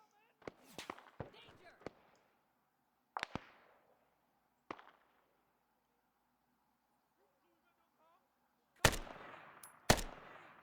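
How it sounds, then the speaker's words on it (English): AK rifle shots in a Vietnam-era jungle video game, sharp single cracks spaced irregularly, several quieter shots early, then two loud close shots near the end, with faint ambience between. "I'm going to try to get a couple shots with the AK"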